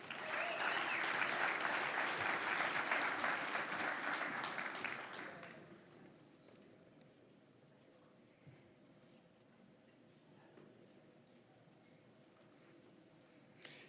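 Hall audience applauds local board President Cup winners for 2021 at a realtors' general session: dense clapping for about five seconds, then fading to a quiet room murmur.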